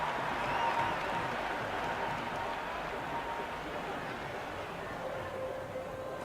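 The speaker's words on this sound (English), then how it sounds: "The crowd is electric right now." A stadium crowd roars in the Cricket 26 video game, a broad, sustained wash of cheering and murmur that holds at an even level with a faint commentary voice underneath.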